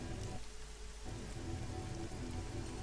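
Steady rain pours continuously on a surface, a dense, even hiss with low rumbling underneath, no voices.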